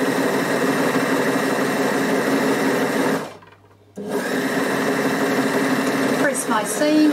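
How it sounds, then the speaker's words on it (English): An overlocker serges down the side of a dress seam with a steady, close, loud mechanical hum that breaks off briefly before resuming. "And then I'm going to overlock down the side here."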